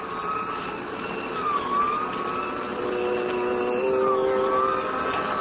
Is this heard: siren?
yes